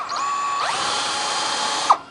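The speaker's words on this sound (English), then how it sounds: "the way to avoid that is to run the drill in reverse" A power drill running in reverse bores a hole through boat gel coat, a close, steady high whine with a brief spin-up and a sharp squeak near the end, heard alone.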